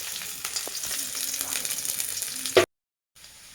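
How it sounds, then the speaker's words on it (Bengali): Chopped onion and dried chili hitting hot oil give a steady, close sizzling hiss with small crackles, broken by a short clatter before the sound cuts off briefly and then resumes at a lower level. "এখন আমি পেঁয়াজ কুচি আর শুকনো লঙ্কা দিয়ে দিচ্ছি।"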